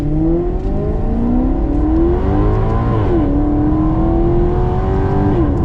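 A Maserati GranTurismo MC Sport Line V8 accelerates hard on a road, engine note climbing steadily through the gears, with two brief dips at upshifts, loud and close from inside the car, with no talking.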